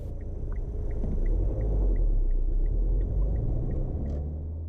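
A car climbs a hill in hilly country during a learner's driving lesson, its engine giving a steady, loud low rumble throughout, with a faint regular ticking in the background.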